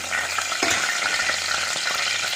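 Curry leaves hitting hot coconut oil for a Kerala squid masala fry, a loud dense sizzle with spitting crackle, close and steady.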